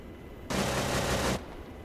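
A short, dense burst of automatic gunfire in a military video game, about a second long, loud and continuous over low background noise.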